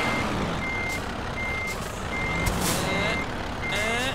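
A truck in Euro Truck Simulator 2 reverses to reattach its trailer, its backup alarm beeping steadily in evenly spaced tones over engine rumble, with faint hisses and clanks between.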